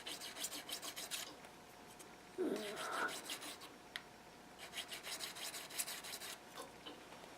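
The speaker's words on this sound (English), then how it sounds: "Most of my tools with a hollow bevel are pretty easy to sharpen, hone by hand like this" Hand honing of a hollow-bevel wood carving tool: soft, steady rasping strokes repeat close by at a low level, with one brief louder scrape partway through.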